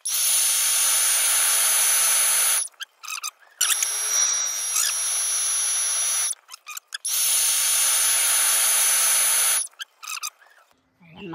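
An electric blower fans a charcoal fire for roasting pork belly, with a loud steady airy hiss in long stretches that cut off and start again, close up.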